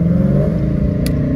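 A catless Dodge Challenger RT accelerates with a loud, steady engine drone that holds for a moment, with a brief high click near the end.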